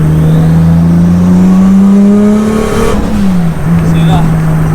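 A 700bhp Nissan Skyline with a loud exhaust pulls hard and close, its engine note climbing steadily before dipping on a gear change and rising again.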